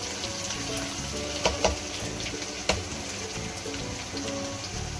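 Garlic and ginger fry in a pan for a lauki mutton curry, giving a steady, even sizzling hiss. A few sharp clicks from stirring break through the sizzle, and no voices are heard.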